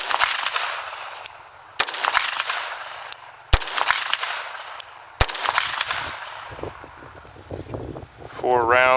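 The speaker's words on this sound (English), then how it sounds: "I'm just going to shoot straight into the ground." A MAB .32 ACP model GZ pistol fired straight into the ground outdoors: several sharp, loud shots spaced a second or two apart over wind noise, with a voice briefly at the end.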